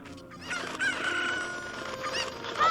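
Chickens in Ocarina of Time cluck and crow continuously in a busy, layered chorus, moderately loud, with no talking over them.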